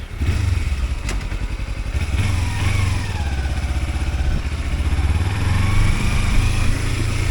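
Motorcycle riding along a road in Tasmania, engine droning steadily throughout with loud wind rush, close up and continuous with no talking.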